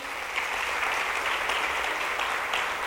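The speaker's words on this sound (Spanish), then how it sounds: "Quiero en este momento que con un aplauso recibamos" A church congregation applauds steadily to welcome a pastor, a dense wash of clapping that stays loud and even throughout with no voices.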